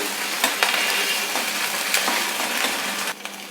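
Ginger frying with salt in a pan for amla pickle, a steady close sizzle with occasional scraping stir clicks, fairly loud and continuous, no talk.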